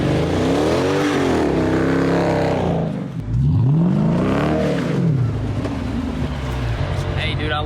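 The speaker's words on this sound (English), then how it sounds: "The exhaust, when it opens up with that supercharger, dude, it sounds so good." A supercharged 2018 Dodge Charger police car engine revs hard and loud, its pitch sweeping up and down in repeated surges, with a deep throaty exhaust roar throughout.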